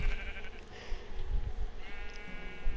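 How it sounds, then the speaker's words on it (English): Sheep in the video game Minecraft bleat in a couple of short, wavering calls over a low, rumbling background, moderately close and with no one speaking. "Alright, sheep."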